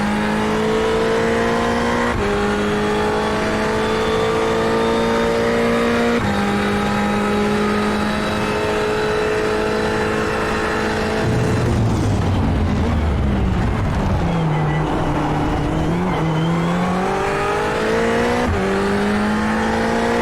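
Ferrari 488 race car in iRacing at the Red Bull Ring, engine screaming loudly through upshifts with rising tones, then braking and downshifting into a corner before accelerating hard again, continuous and close.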